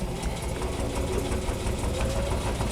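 A sewing machine hums and knocks steadily and loudly at close range, stitching a piece of plastic cut from a bottle into the fold of a boat cover vent opening.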